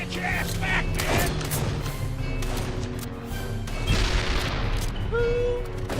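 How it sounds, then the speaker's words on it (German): Explosions and gunfire roar through a battle in the Darkest of Days video game, a dense, continuous din of booms, blasts and shots with heavy thuds near the one- and four-second marks, steady and loud throughout with no pause. "I loves me some explosions!"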